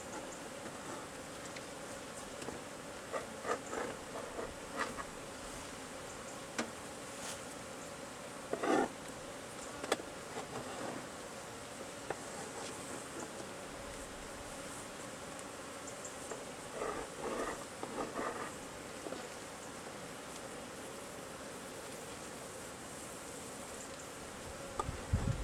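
Honeybees humming steadily around an open hive during an inspection, a low continuous drone with occasional louder buzzes as individual bees pass close.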